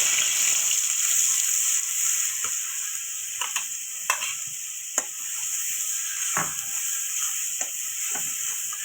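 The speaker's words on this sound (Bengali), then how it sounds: "জলটা দেবো, মেশিনে দেওয়ার জলটা" Water from the grinder poured into a hot pan of panch phoron and ground peanut-poppy seed paste for a green banana (kachkola) curry; steady sizzling with scattered stirring clinks, close and moderately loud, no talking.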